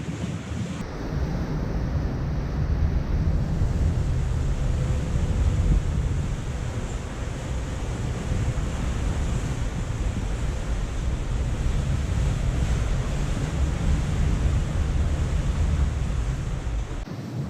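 Strong wind of around 30 knots roars over the deck of a Lagoon 46 catamaran sailing near Finisterre, with waves rushing alongside in a loud, continuous, buffeting wash that lasts throughout.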